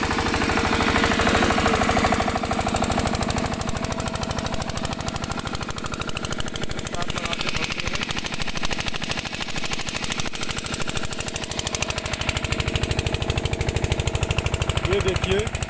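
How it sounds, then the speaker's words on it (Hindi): An engine-driven irrigation water pump runs in a wheat field beside sugarcane with a rapid, relentless mechanical chugging, loud and close, continuing without pause while someone talks over it. "इंजन भी चल रहा है, खूब मात्रा में पानी दे रहा है।"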